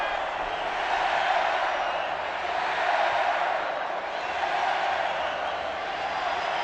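A basketball arena crowd at the 2015 FIBA Americas Championship game between Mexico and Brazil roars in a steady, broad wash of cheering for Mexico that swells and dips slightly throughout.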